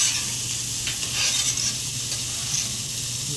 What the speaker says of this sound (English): We're just moving the onions around.